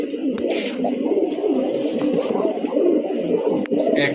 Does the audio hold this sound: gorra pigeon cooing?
yes